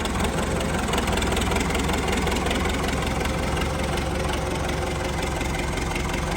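A tractor engine idles nearby with a constant, loud, rumbling drone and slight knocking vibration, holding steady throughout with no voices.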